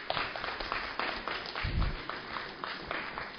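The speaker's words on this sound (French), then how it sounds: "Vous pouvez l'applaudir" Applause welcoming the CAMS president at a press conference, a brief spread of moderate clapping from a small crowd, with some voices mixed in.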